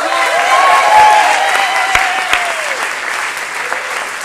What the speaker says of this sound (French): On peut l'applaudir encore chaleureusement.